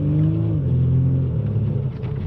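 A Mercedes W205 C-Class engine rumbles from inside the cabin as the driver downshifts with the paddle shifters, giving a steady low drone whose pitch drops partway through, loud and without talk.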